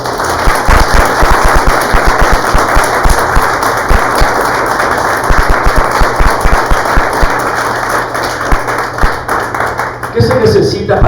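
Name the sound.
church congregation applause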